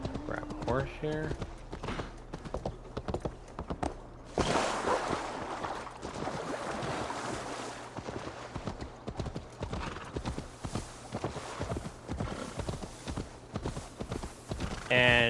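Rhythmic clip-clop of video game horse hooves trotting steadily in an Ubisoft game, close and clear, with a voice talking over it and a brief whinny at one point.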